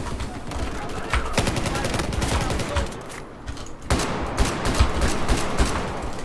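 Rapid bursts of tank and small-arms gunfire from a 64-player Battlefield 4 rush match crackle loudly in quick clusters, while voices talk over the action.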